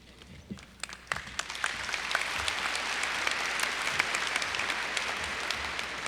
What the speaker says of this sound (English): I'm going to ask for one last power clap before I turn it over to the next speaker.